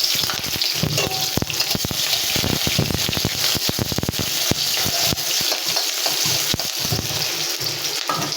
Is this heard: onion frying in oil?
yes